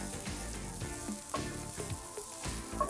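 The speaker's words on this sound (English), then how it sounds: "Just gonna cook these until they soften up a bit." Sun-dried tomatoes fry in a hot skillet with a steady, close sizzle that never lets up, broken by occasional soft scrapes of stirring.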